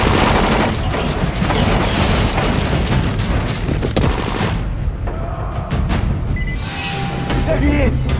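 Gunfire and booming blasts in a classic video game, loud and continuous bursts of shots with explosions, mixed with shouted character voices and sharp effects toward the end.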